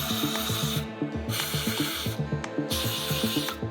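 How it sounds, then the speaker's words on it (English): Compressed air hisses in bursts into the head bolt holes of an 8.3 Cummins engine block, with three blasts separated by short gaps over a steady rhythmic thumping in the background. "you wanna make sure you blow your holes out where your head bolts go"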